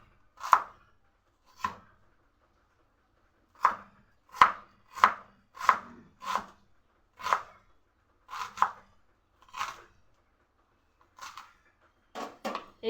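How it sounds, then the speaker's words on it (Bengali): Knife slicing an onion thinly on a board: a series of about a dozen crisp, separate cuts at uneven spacing, close and clear in a quiet room without speech. "এইভাবে পুরো পেঁয়াজটা কেটে নেব।"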